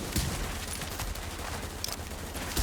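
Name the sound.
sniper rifle gunfire in video game The Division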